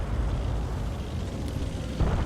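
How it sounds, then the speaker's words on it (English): A heavy tank gun fires a shot in World of Tanks, a deep rumbling boom that rolls on and fades, followed by a smaller low thump near the end. "just fire that shot"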